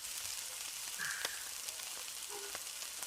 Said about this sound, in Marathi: आपण 2 मिनिटासाठी वाफेवर ही भाजी मंद आचेवर ठेवूया